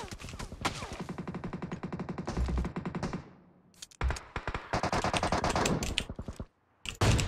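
Gunfire in the mobile video game PUBG Mobile, loud rapid automatic bursts in several long strings broken by short pauses and a few isolated shots, with a voice talking in between.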